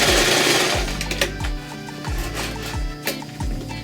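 A sewing machine stitches fabric pouf corners together, running close and loud with a steady mechanical whir and rhythmic needle thumps in short bursts, with no talk.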